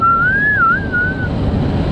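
A single wavering whistle tone from The Walking Dead, season 8 episode 5 "The Big Scary U", loud and close, gliding up and down for about a second over a low rumbling background.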